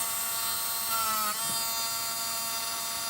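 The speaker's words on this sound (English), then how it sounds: "I'm adding a bunch of detail with the Dremel" Dremel rotary tool carving detail into foam clay barnacle prosthetics: a continuous high-pitched electric whine, close and steady, with slight pitch dips as the bit bites into the material, no voices.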